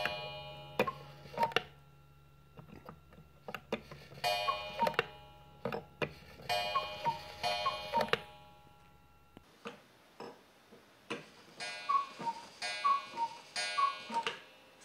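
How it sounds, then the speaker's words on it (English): An old cuckoo clock in an abandoned, preserved house ticks in a steady, even rhythm, close and quiet, with a few small mechanical clicks and no talking. "I'm going to try and make this cuckoo clock go cuckoo."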